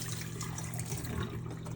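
Dirty water from cleaning metal-detecting finds such as coins is dumped out of a container, a steady close rushing pour that continues without a break.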